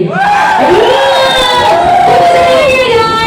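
A club crowd shouting and cheering together at a live DJ show, loud and dense, with rising and falling shouted voices blending into a single roar.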